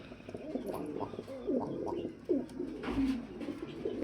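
Lahori pigeons, dun-coloured, cooing at a farm loft: soft, low, rolling coos come in repeated phrases against a steady hum of other birds and background noise, with no voices.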